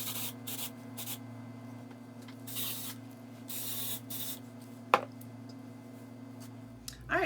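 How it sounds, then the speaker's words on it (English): Several bursts of aerosol hair texture spray hiss, some short and some longer, close by and fairly quiet, with a steady low hum underneath. "I'm gonna spray it all over"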